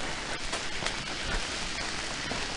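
Steady rain falling in a quiet town in Urahoro, Hokkaido, an even, continuous hiss of drops on surfaces with a few slightly louder spatters, no voices.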